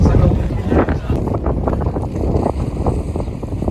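Wind buffets the microphone in a steady, loud roar over the water before a windsurfing race start, with a voice talking faintly beneath it.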